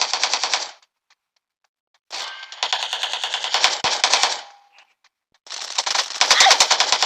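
Automatic gunfire in the mobile battle-royale game PUBG New State: loud rapid bursts of shots, one short burst, then a pause, then a longer sustained volley and another stretch of rapid fire toward the end.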